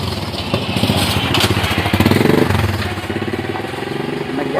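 A motorcycle engine runs close by, its loud pulsing putter rising briefly as if revved, then settling back to a rhythmic idle, with people talking over it.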